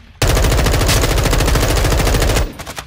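Sustained full-auto TAQ 56 rifle fire in Warzone 2, a loud, rapid, even stream of shots running for over two seconds before cutting off, with faint game ambience afterward.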